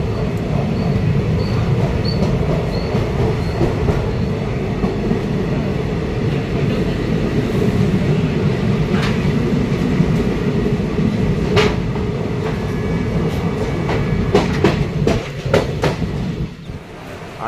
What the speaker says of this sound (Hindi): और अपनी जो ट्रेन है लातूर एक्सप्रेस, उसको यहीं पे हम बाय बाय करते